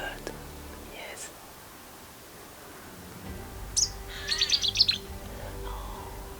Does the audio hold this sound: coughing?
no